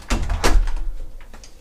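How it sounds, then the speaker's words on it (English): Front door of a house being opened on entering the property, a close, fairly loud handling clunk with a short rattling swing, heard alone. "We'll enter the property now through the front door."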